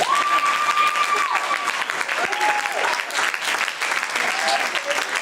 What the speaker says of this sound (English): Give you guys a round of applause.